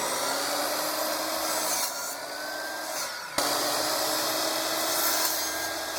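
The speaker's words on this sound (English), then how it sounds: "I'm just going to cut some wood." Wood being cut for a small craft build, giving a steady rasping, scraping sound at close range that pauses briefly midway and then continues, with no voices.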